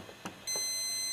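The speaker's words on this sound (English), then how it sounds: "And we get a beep." A continuity tester on a pachinko machine's micro switch gives a steady electronic beep that starts partway through and holds to the end, preceded by a couple of faint clicks.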